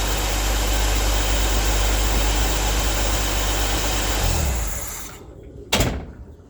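Jeep CJ-7 engine runs with a steady, loud, close drone before winding down and cutting off, followed by a brief sharp knock near the end.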